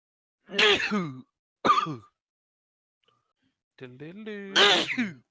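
Three sneezes burst out at close range during a tabletop role-playing session, the first two a second apart and the last one drawn out after a pause, with otherwise quiet surroundings.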